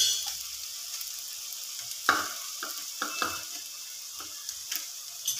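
Ridge gourd curry being stirred in a pan: faint, soft frying hiss with a handful of sparse spatula scrapes and knocks, close and quiet.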